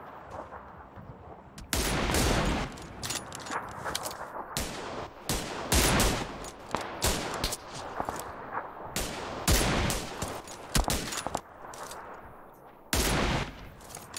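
Gunfire in the battle-royale game PUBG Lite, with repeated loud shots and rapid bursts crackling throughout, dense and close.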